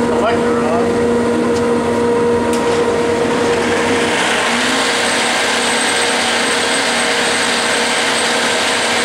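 A workshop dust collector roars loudly and steadily as it runs, its broad whooshing drone holding constant with a faint tonal hum, and someone briefly talks near the start.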